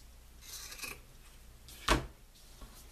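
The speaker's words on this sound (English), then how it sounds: "And trim my little tassel down" Scissors trimming a bohemian feather tassel: soft rustling of feathers, then one brief, crisp snip up close, followed by quieter handling.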